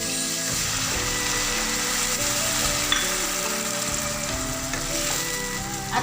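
Pork teriyaki sizzling in a pan as soy sauce goes in, a steady, loud, even frying hiss with soft stirring scrapes and no one talking.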